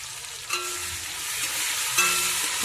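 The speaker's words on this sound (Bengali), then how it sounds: "ভালোভাবে নেড়ে চেড়ে কষিয়ে নেবো।" Tomato and capsicum fry with salt and turmeric in a pan, a soft steady sizzle broken by a couple of scraping stirs, heard close with no talking.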